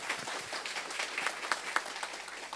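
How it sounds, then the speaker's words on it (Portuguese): An audience at an Abril Verde faith gathering gives a round of applause: distant, fairly faint, uneven clapping with scattered sharper claps, and no talk over it. "Um salve de palmas para todos vocês."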